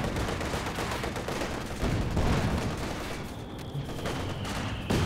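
Mortar fire in the real-time strategy game Company of Heroes 2, with two mortars firing during a 2v2 match. Dense, continuous battlefield noise of gunfire and blasts runs throughout, with a sharper burst near the end.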